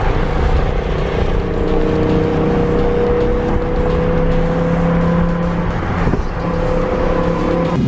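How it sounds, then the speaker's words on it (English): A McLaren 675LT coupe pulls up close by, its engine a steady, loud rumbling drone that holds throughout with a slight shift in tone near the end, without any talking. "another 675 LT coupe pulls up next to me"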